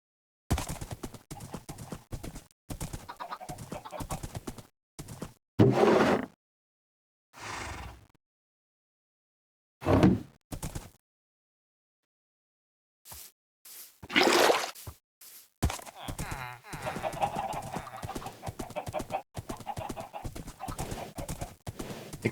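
Horse hooves from the video game Minecraft clip-clop in short scattered bursts, separated by silent pauses, with a squishy, slightly wet texture to some steps.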